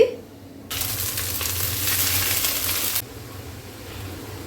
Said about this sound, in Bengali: এবারে ফ্রাইড রাইসটা তাড়কা দেবো